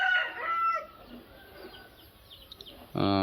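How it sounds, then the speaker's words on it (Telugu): A rooster crows nearby at the start, a quieter pause follows with faint background noise, then another loud crow begins at the end. "ఆ పుంజు ఉంది కదా"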